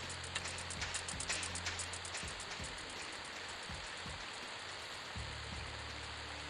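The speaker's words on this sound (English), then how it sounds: "I had an idea that this rain might be a little bit too loud." Steady, loud rain hisses without a break in the video game EverQuest, with a few faint low thumps and soft drips scattered underneath.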